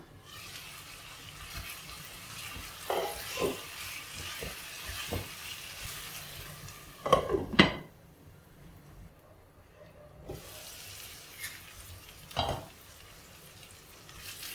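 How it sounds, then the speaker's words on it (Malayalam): Potato stir-fry being stirred in a pan after the lid is lifted, soft sizzling beneath several clanks and scrapes of a spoon against the pan, with a few louder knocks and brief quiet gaps. "ഇടയ്ക്കിടയ്ക്ക് ഒരു 2 മിനിറ്റൊക്കെ ആകുമ്പോഴത്തേക്ക് ഇങ്ങനെ ഇളക്കി കൊടുക്കണം"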